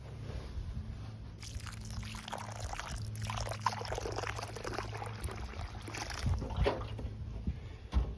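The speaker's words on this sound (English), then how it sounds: "I have a large container of water here, and now it's time to soften up the ground." Water pours from a large container onto hard ground outdoors, a steady broadband splashing and sloshing that runs for several seconds with a few louder splatters near the end, close and fairly loud, with no talk.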